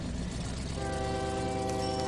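A train running in OpenTTD, a steady mechanical rail rumble with a sustained tonal horn-like whine emerging partway through, moderately quiet.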